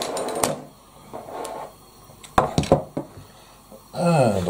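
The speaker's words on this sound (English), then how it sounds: "So let's get the pan on" A frying pan is set down on a home kitchen stove with a few sharp metallic clunks and knocks, followed by a brief rattle as it settles, while someone talks nearby.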